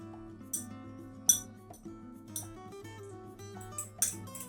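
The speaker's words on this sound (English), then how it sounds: "So we're just going to give this a nice stir. You really want that egg incorporated well." A fork clinks repeatedly against a bowl while stirring an egg mixture for peanut butter and banana chaffles, light irregular taps over soft background music.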